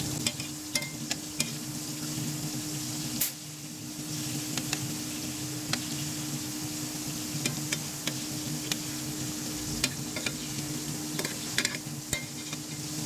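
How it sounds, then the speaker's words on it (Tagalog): A cornstarch-coated fish fillet fries in oil, giving a steady moderate sizzle with a low background hum and scattered sharp ticks and pops, close by and without speech. "Nagprito na ako."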